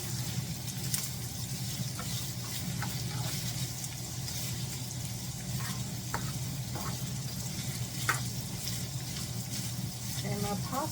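Frozen chopped garlic sizzles in a hot skillet, a steady close frying hiss with occasional clicks of stirring throughout.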